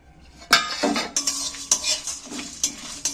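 Whole dry spices are stirred in a dry pan, with repeated scraping and clinking of a metal spatula against the pan and a faint sizzle underneath. The strokes come in an uneven rhythm, close and fairly loud, with no talking.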